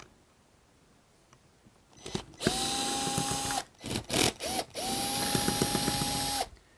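Mounting screws on a Schlage Encode Plus smart lock are backed out with a power driver, with two long steady whirring runs separated by short ratcheting bursts, loud and close.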